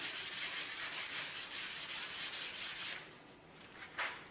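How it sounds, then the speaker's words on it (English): Sandpaper rubbed by hand along a wooden handle in quick, rhythmic back-and-forth strokes, close and distinct, then a brief pause and one last scrape. "I always just use a piece of sandpaper."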